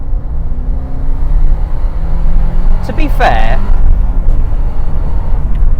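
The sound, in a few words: 1993 Porsche 968 engine while driving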